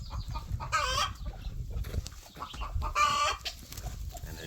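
A farm hen clucks loudly in the nesting box after laying an egg, repeated squawking cackles in two bursts over a backdrop of other chickens and rustling.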